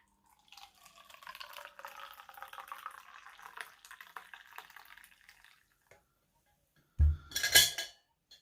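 Hot drink poured from a 1.2-litre Thermos Stainless King steel flask, a thin steady trickle into a cup for several seconds, then a short clink and rattle of the flask or lid near the end.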